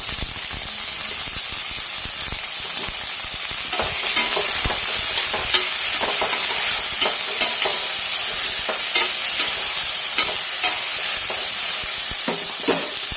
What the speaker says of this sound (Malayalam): അതിലേക്ക് അരിഞ്ഞു വെച്ചിരിക്കുന്ന പാവയ്ക്കായി ഇട്ട് വഴറ്റി എടുക്കാം